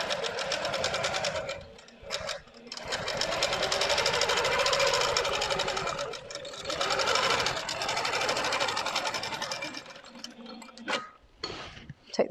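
A long-arm quilting machine stitches a feathered panel guided by a ruler, its steady rapid mechanical hum running continuously with two brief pauses and a stop near the end, close and prominent.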